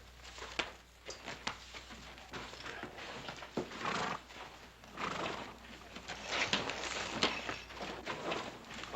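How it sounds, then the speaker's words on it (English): A horse whinnies and its hooves clip-clop on a town street in a Western episode, with scattered thumps and rustle around it, moderately loud and close. "I'll take care of your horse."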